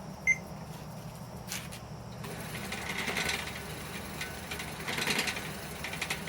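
A homemade 2x72 belt sander runs with heavy vibration, giving a steady droning hum and rattle with a beep near the start and surges of louder buzzing mid-way, close and continuous.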